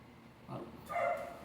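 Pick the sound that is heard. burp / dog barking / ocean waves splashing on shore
dog barking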